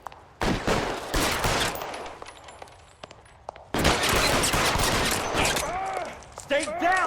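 Gunfire in the video game L.A. Noire comes in loud, close bursts of rapid shots separated by quieter stretches, with sharp ringing impacts near the end and speech mixed in among the shooting.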